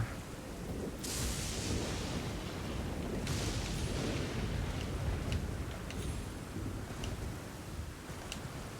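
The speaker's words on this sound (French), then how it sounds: "pourquoi il y a des éclairs qui me tombent dessus?" Lightning and thunder in the Elden Ring video game, a continuous low rumbling roar with sharp cracking strikes at a few points, steady and fairly loud throughout.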